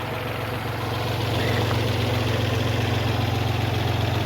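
A Kubota L3901 tractor idles steadily close by, its engine putting out a constant low, even throb that holds level throughout with no other sounds.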